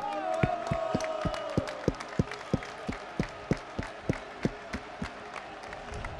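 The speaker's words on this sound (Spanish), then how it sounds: "nosotros os queremos dar también nuestro aplauso por vuestro apoyo" A crowd at a city hall reception celebrating a promotion to Segunda claps in a steady rhythm: sharp, evenly spaced claps roughly three per second over a low murmur of voices, with a brief whistle-like tone at the start.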